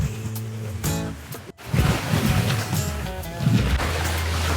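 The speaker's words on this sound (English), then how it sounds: "back to just the sounds of the water going under the rudders and the hulls" Water rushing and splashing beneath the rudders and hulls of a sailing catamaran under way with engines off, a steady close swish with some wind noise and brief indistinct voices.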